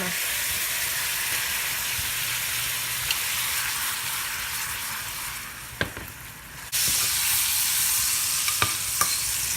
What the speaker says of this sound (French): Le feu doit être très vif pour que les fraises ne se ramollissent pas.